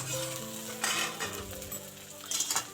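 Potato pieces frying in a pan give a dense sizzle that carries through the whole short stretch, with bursts of spatula stirring and light scraping against the pan.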